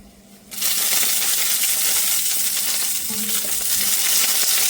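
Dried red chillies and curry leaves hitting hot oil: after a brief quiet start, a sudden loud burst of sizzling and crackling surges up and stays intense and close, with faint stirring clinks beneath.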